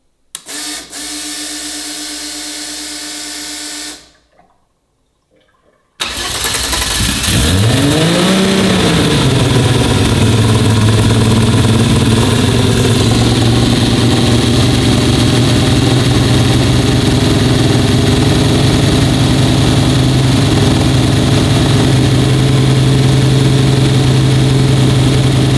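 A steady mechanical hum cuts off briefly, then a car engine cranks and catches, settling into a loud, continuous idle that drones on.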